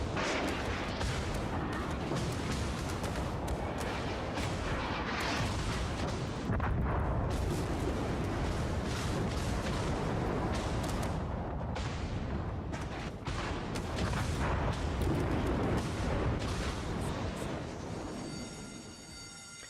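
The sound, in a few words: naval gunfire in the video game World of Warships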